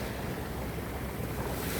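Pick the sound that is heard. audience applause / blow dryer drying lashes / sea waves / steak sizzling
sea waves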